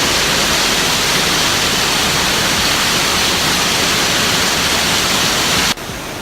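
Steady, loud roar of a waterfall heard up close, a dense unbroken rush of water that holds constant before dropping slightly in level just before the end.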